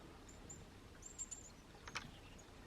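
A chickadee gives a few short, high chirps from a tree during hand feeding, brief faint calls spaced over a couple of seconds above quiet outdoor background noise.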